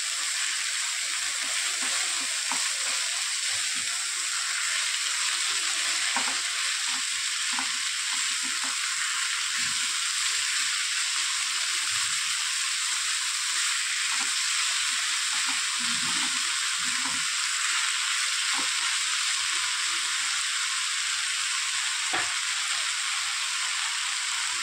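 Moringa leaves frying in a pan and being stirred, a steady close sizzle with intermittent scraping and stirring sounds throughout.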